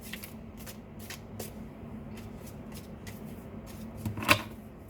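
Tarot cards are shuffled in soft, repeated riffling bursts, close and quiet, ending in a sharper snap of the deck near the end.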